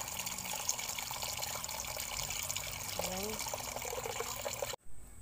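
Water pours steadily into a cooking pot of pork bones, a continuous rushing stream that stops abruptly near the end, with a voice briefly speaking over it.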